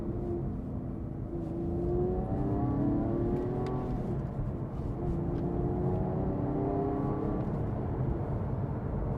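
A Porsche 911 997.2 Carrera S with manual gearbox and sports exhaust engaged drones and rises in pitch through the gears, a steady muffled engine note heard from inside the car.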